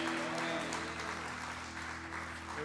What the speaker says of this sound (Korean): 우리를 인도하시는 그 주님께 감사와 영광의 박수를 올려드립니다.